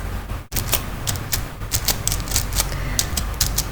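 Keys tapped on a computer keyboard while entering data, a string of sharp, irregular clicks close by over a steady background hum.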